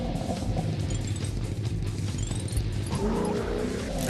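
A stunt car racing over impossible mega ramps in Stunt Car Extreme, a continuous loud engine drone with rising revs and faint tire squeals, without pause.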